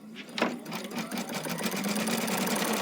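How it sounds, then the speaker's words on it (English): An embroidery sewing machine stitches the base of a free-standing lace brooch in purple Isacord thread, its rapid mechanical whir starting up and running steadily and loudly close by. "We're going to go ahead and start our stitching."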